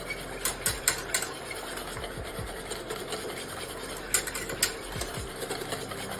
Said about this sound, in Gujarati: એટલા માટે એ સરસ રીતે આપણે હલાવતા રહીશું.